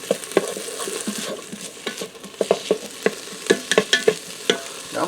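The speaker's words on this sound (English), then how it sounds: "Give that a stir, and we're going to allow that to fry in with the onion just for a second." Garlic and onion sizzle in a pot for a pressure cooker beef roast, with close, irregular clinks and scrapes of a spoon stirring through the steady frying hiss.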